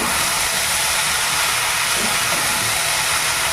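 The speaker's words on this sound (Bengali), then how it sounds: "শাকগুলো এবার খুব সুন্দর করে ভেজে নেব" Red amaranth greens fry in a pan with a loud, close, continuous hiss and crackle that holds steady throughout, with no talking.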